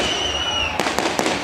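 Firecrackers at the night-time Karaga festival of Sri Chamundeshwari Devi in Ramanagara burst in a quick run of three sharp bangs over a steady, humming crowd background.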